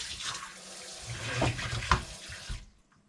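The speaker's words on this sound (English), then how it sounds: "We also just installed a brand new kitchen faucet with a sprayer." A brand-new kitchen faucet with sprayer in a 2017 Tiffin Breeze diesel motorhome runs with a steady broadband hiss of water into a double-bowl stainless steel sink, then shuts off abruptly near the end, leaving silence.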